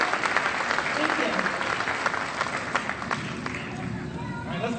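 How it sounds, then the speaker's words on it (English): An audience at a school district arts festival applauds with dense, continuous clapping and crowd murmur, which thins out toward the end. "let's give them all a round of applause"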